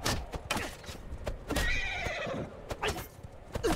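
A horse in the video game Mount & Blade II: Bannerlord gives a loud, drawn-out whinny amid battle clatter, with sharp hoof clops and thuds scattered before and after.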